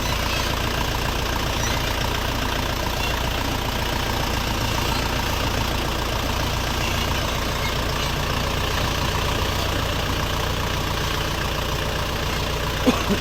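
A heavy Dongfeng 404G2 tractor engine idles steadily nearby, a constant loud rumble with no speech over it.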